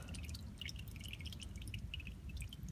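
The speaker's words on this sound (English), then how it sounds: "And it's just about done dripping." Dirty engine oil drips from a 2014 Mazda 3 during an oil change, with a scattering of small irregular drips over a low steady rumble.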